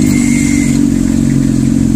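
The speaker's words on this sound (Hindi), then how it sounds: "ट्रैफिक की कमी थी वो भी पूरी हो गई है, वो तो मंसेरा की खास पहचान है ट्रैफिक।" Motor traffic on a road in Mansehra, Pakistan, heard from a moving motorcycle: a steady, loud engine drone and rumble with passing vehicle noise, continuous throughout with no talk.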